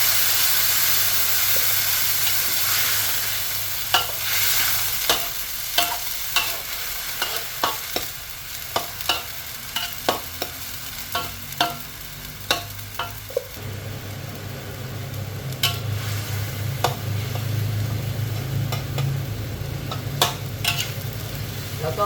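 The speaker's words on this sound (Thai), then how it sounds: "ผัดก่อนนะคะ ผัดสักพักหนึ่งก่อนแล้วค่อยเติมน้ำใหม่" Pickled mustard greens and pork stir-fry in a pan with a little water, a steady loud hiss under a rapid run of sharp spatula clacks, then a quieter bubbling sizzle with occasional taps, close up.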